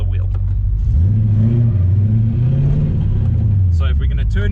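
A drifting car's engine revs hard under acceleration, a loud rising and falling growl that holds for several seconds, with tire and road noise and a brief burst of talk at the end.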